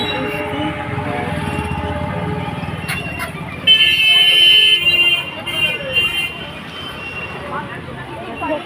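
A train rolls past a busy level crossing in a town with queued traffic, a continuous rumble with a short burst of horn partway through, while people talk nearby.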